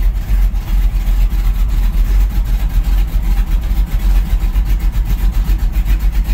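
A car engine idles in gear at about 600 rpm, fitted with Thompson Performance Powerblast plates, giving a steady, loud low rumble with a regular throbbing pulse and no talking.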